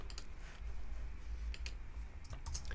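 A computer mouse and keys click quickly and unevenly in short close bursts while text is copied and pasted in a quiet room.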